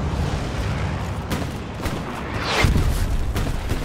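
Friendly artillery fire landing in the World War II shooter Hell Let Loose, a run of heavy booms and rumbling blasts at middle distance, with a louder, nearer impact late on and continuous battlefield noise underneath.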